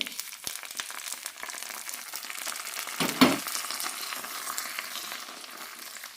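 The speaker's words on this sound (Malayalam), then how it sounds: "കടുകും കറിവേപ്പിലയും ഉലുവയും ഇട്ടിട്ടാണ് താളിച്ചിരിക്കുന്നത് ഒഴിച്ചു കൊടുക്കാം" Hot tempering of mustard seeds, curry leaves and fenugreek poured into a dried shark buttermilk curry (moru curry), giving a brief loud sizzling burst amid continuous soft frying hiss, with no talking.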